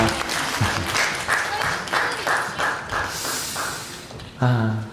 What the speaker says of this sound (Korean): 박수 한번 크겠죠? 한 번 더 크죠?